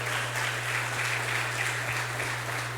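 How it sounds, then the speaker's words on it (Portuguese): A church congregation applauds in a steady, dense wash of clapping over a constant low electrical hum. "Você pode aplaudir o Senhor, meu irmão?"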